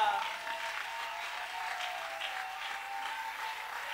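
A church congregation applauding, a steady wash of many hands clapping at moderate loudness throughout, with a voice sounding faintly over it.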